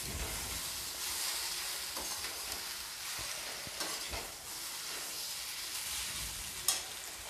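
Chopped vegetables and roughly chopped tomato sautéing in a pan, a steady broadband sizzle with faint stirring scrapes and one brief sharp clink near the end, no voices.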